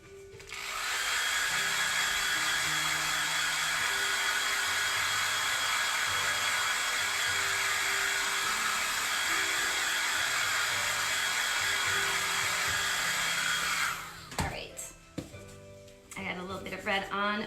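A hair dryer blows on sugar cookie icing, a loud steady whirring hiss running continuously for about thirteen seconds before cutting off, followed by brief handling noises and a voice.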